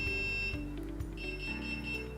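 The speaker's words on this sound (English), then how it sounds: "press and hold the button on top of the motor until it begins to beep" A skylight shade motor gives a series of electronic beeps while being paired with its remote: clear, steady tonal tones that shift pitch in a few distinct steps, heard close and alone in a quiet room.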